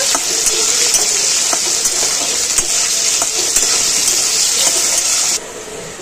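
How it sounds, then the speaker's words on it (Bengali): Long strips of lightly salted potato frying in hot oil give off a steady, close, bright sizzle with scattered crackles and pops, softening near the end. "লম্বা করে আলুগুলো কেটে রেখেছি, আলুগুলোকে ভেজে নেব।"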